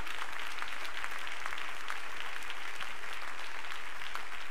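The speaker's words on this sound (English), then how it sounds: "would you clap your hands to him one more time?" A church congregation claps together during a worship service, producing a steady, even crackle of many hands that continues throughout with no speech on top.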